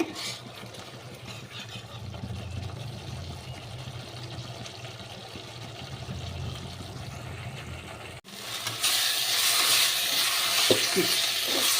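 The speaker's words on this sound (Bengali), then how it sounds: "মশলাটা একটু কষানো হবে।" Spice masala sautéing in a pan, with quiet stirring and low sizzle that jumps to a louder, brighter frying hiss after a brief break, close and steady with no talk.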